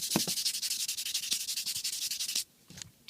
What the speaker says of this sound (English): I do a bit of sanding on that,